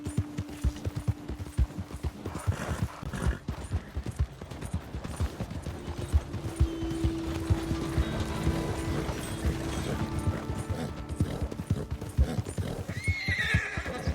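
Horse hooves clip-clop steadily in Red Dead Redemption 2 near Blackwater, with several neighs and whinnies rising over the continuous trotting rhythm throughout.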